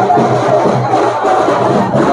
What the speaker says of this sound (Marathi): गर्दी असते.